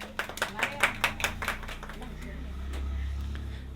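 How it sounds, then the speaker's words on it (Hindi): An audience at a science quiz claps in a quick, irregular burst of hand claps that fades after a couple of seconds into low room rumble and faint voices. "इसके लिए सभी व्यक्ति जोरदार तालियों से लड़कियों लोगों का हौसला जाहिर"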